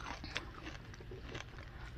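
Frosted Flakes cereal crunched and chewed up close, a quick series of soft crisp bites and grinding crunches, faint and without talking.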